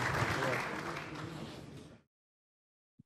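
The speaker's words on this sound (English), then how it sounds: "Let's give a round of applause for our rock stars." Audience applause at a business conference panel in Nashville, a broad clapping wash that tapers off and ends abruptly around two seconds, followed by silence and a faint knock.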